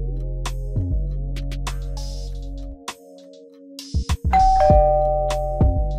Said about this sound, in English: And then I hear a ring in my bell